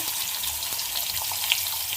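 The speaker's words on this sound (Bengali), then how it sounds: "তো এখন এই আলু ভাজছি" Sliced potatoes fry in a pan in a home kitchen with a steady, even sizzle and occasional tiny pops, close and continuous, no speech.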